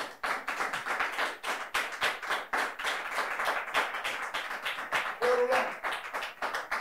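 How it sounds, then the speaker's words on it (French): Audience applause welcoming a pastor at a church service, dense steady clapping from many hands filling the room for several seconds, with a voice briefly audible partway through. "Sous vos applaudissements, s'il vous plaît."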